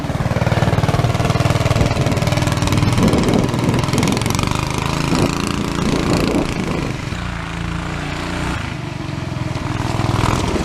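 A 420cc stage 1 engine runs loud and close on its first ride, with a continuous rough, chattering mechanical drone and slight swells in pitch and level throughout.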